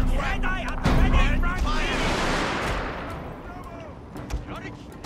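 Gunfire crackles in a Fall of the Samurai campaign battle: an ambush with dense musket volleys and rolling fusillades that build loudly and then fade, under a person speaking.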